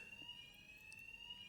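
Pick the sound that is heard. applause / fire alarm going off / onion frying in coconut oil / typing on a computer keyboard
fire alarm going off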